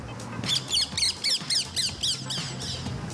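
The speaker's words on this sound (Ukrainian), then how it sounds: "Ветеринар пояснив, це папуга крамера." A rose-ringed (Indian ringneck) parakeet gives a run of harsh, rhythmic squawks, about ten sharp calls in quick succession, close and loud over a low background hum, with no one speaking.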